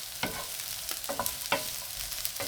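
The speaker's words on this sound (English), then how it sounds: "Then add the chilies and stir for 30 seconds." Chilies stir-fried with garlic pork belly in a wok over high heat: a continuous sizzle with several sharp spatula scrapes and tosses, close and fairly quiet, with no voices.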